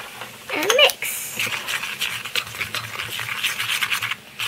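Baking soda being stirred into a pink science-experiment mixture, with a steady scraping, swishing rhythm throughout and a short voice-like squeal near the start.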